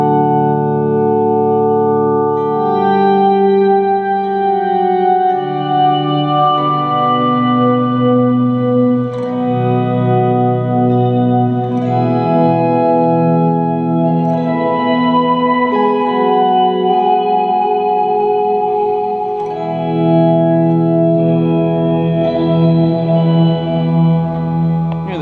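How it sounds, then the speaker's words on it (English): Electric guitar run through an Electro-Harmonix Micro POG octave pedal, playing sustained chiming chords and melodic lines with a bright, octave-doubled shimmer, loud and steady with no talking. "You can add the POG in, and you get a little bit of a brighter tone."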